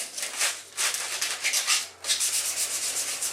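Sandpaper of 150 grit rubbing chalk-like paint off the edges of wooden table legs: steady rasping strokes in a quick back-and-forth rhythm, close and fairly loud, with a short pause partway through and no voices.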